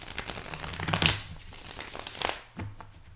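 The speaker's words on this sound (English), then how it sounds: "Let me just give the deck a shuffle." A tarot card deck shuffled by hand at close range, giving a quiet run of soft riffling and crinkly card slaps with a short pause before a final few flicks.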